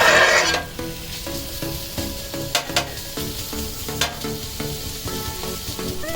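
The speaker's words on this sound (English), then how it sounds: "We're gonna add the bacon." Bacon sizzling on a Blackstone griddle, a steady close crackle and hiss with a few sharp pops and spatula scrapes, no talking.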